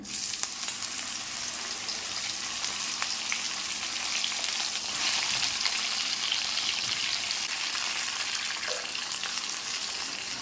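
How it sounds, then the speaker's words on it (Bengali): Ridge gourd strips hitting hot oil with black cumin in a kadai, giving a steady, dense sizzle that holds evenly loud throughout with faint stirring, no voices. "তেলের মধ্যে আমি দিয়ে দেবো ঝিঙে"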